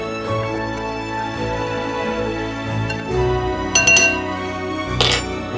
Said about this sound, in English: you're going to give these dry ingredients a little bit of a stir